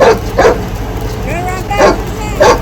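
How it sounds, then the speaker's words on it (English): A dog gives several sharp barks with yips between them, close by over a rumbling outdoor background. "there's a dog"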